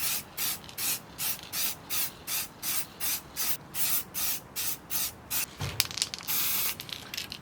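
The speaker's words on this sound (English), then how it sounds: "And then just quickly give it a light coating." Black enamel spray paint hisses from an aerosol can in a steady run of about a dozen short, even bursts, then one longer continuous spray at the end, close and loud with no talking.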